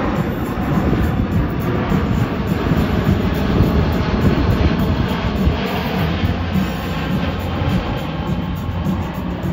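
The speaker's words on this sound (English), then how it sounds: "that's a big airplane" A large airplane flies over a Miramar air show, a steady, loud, broadband engine roar that holds for the whole span with no break.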